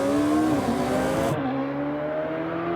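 Caterham 620R sports car accelerating hard on a track, a loud, strained engine note rising in pitch, then dropping with a gear change and climbing again, heard alone without talk.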